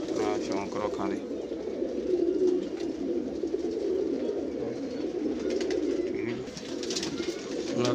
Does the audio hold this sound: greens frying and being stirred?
no